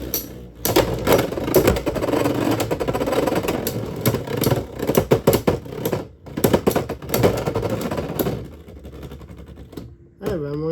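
Two Beyblade X tops, Feather Phoenix and Soar, are launched and battle in a stadium. Dense rapid clattering and whirring scrapes run for several seconds, break off briefly and then resume before settling into a few final clicks.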